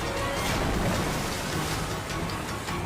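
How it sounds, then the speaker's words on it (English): A waterfall roars down with heavy falling water, a dense, loud, continuous rushing wash that stays steady and close throughout. "he's trapped under the thundering falls,"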